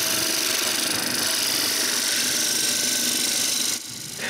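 A wood lathe spins a rough wooden circle hot-glued to a turning block, giving a steady, loud whirring hum with a gritty cutting texture that cuts off abruptly near the end, leaving quieter room tone.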